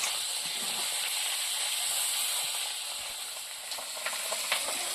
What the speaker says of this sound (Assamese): মাছৰ কণীকণ ভাজি হৈ গ'ল